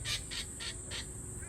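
A king parrot calls in four evenly spaced high, piercing notes, moderately near, over a constant high background whine and low outdoor rumble.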